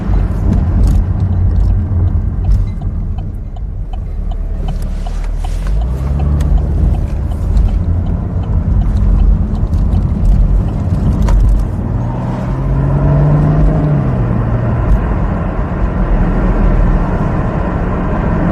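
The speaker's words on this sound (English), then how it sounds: "Traffic." Road traffic rumbles steadily, with vehicles passing at varying distances and a low engine drone that rises and falls throughout.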